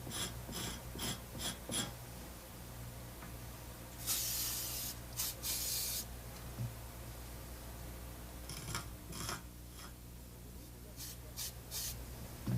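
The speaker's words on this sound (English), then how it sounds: "704A Tech Rubomatic aerosol to the area being repaired." Short hissing bursts of Tech 704A Rubomatic aerosol sprayed onto the buffed repair area inside a tire, with quieter handling and scraping sounds between the bursts.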